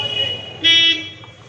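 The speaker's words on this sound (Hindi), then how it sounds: "और सामने से गाड़ी भी आ रहा है" A vehicle horn sounds once in a single steady toot of about a third of a second, amid road noise and a faint background voice near a busy beach road in Digha, West Bengal, where guest cars are arriving from ahead.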